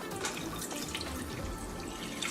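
Four cups of milk pour steadily into a pot on low heat for macaroni and cheese, a soft continuous liquid trickle and splash heard faintly and alone.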